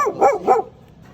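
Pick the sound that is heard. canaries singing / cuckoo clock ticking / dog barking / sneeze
dog barking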